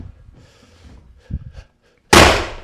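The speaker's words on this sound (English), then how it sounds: "We're gonna drive this last, boom, tight." A hardwood floor board driven tight with a single hard blow: one sharp, loud impact near the end, after quieter shuffling and thumps.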